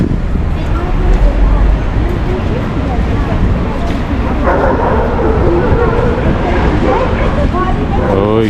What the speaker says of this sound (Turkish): Köpüşler şimdiden başladılar havlamaya.